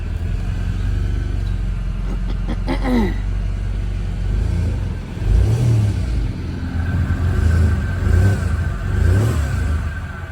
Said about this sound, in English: Maybe that's how they 2 litre FSI sound,